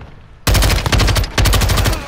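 Video game machine gun fire rattles in two loud, rapid bursts, close and harsh, with a brief dip between them and no talk over it.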